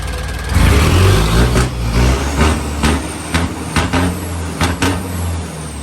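A big four-cylinder diesel engine in a six-wheel truck roars up to a loud rev and then blips repeatedly in short throttle bursts, with a hiss of air near the start.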